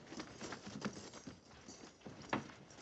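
Cavalry horses shuffle and stamp nearby after the riders dismount, with soft irregular hoof patter and scraping on the ground, fairly faint.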